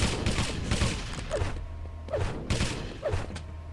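Railgun shots in a Quake Live team deathmatch match crack out at regular intervals, each a sharp burst with a short zipping tail, over busy, constant in-game clatter and footsteps.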